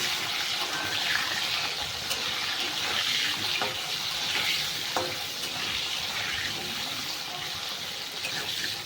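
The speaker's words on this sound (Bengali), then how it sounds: "আলুটাকে ভালো করে ভেজে নেব।" Potatoes with a little salt fry in a pan while being stirred, producing a dense, steady sizzle with occasional scraping clicks, close and continuous throughout.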